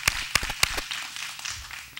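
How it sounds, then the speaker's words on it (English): Applause for food pantry volunteers at a grant award event, a handful of sharp claps at the start that thin out into scattered light clapping and room noise. "I'd like to give them a round of applause."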